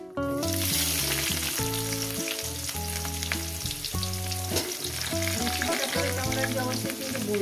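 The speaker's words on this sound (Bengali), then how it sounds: "পেঁয়াজটা যাতে সুন্দর ভাজা হয়" Chopped onions fry in a pan for a mutton curry, a continuous bright sizzle with stirring running under background music with steady tones throughout.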